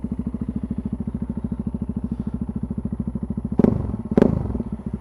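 Yamaha XT660Z Tenere single-cylinder engine with aftermarket exhaust idling close by, a steady rapid thumping pulse, with two sharp clanking knocks near the end over the ongoing idle.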